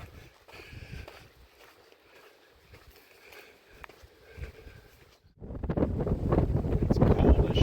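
Cold wind on a Pacific Crest Trail hike near Tehachapi buffets the microphone, first in light intermittent gusts, then a sudden, heavy, continuous roar of wind rushing past.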